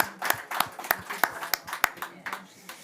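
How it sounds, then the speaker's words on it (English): Applause for a panel at the close of a conference session on climate security and water cooperation, a small group clapping in loose, uneven bursts, fairly close and moderate in volume. "big applause for my panel"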